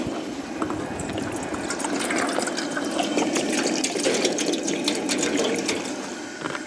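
Water pours into a pot on a two-burner stove outdoors by the sea, a steady close gush that fills and rises in pitch before easing off.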